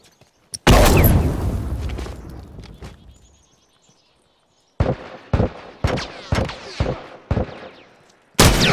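A grenade blast in The Last of Us game, one loud sudden boom with a long decaying rumble, then a pause, then a string of sharp separate gunshots at uneven intervals and one more heavy shot at the end.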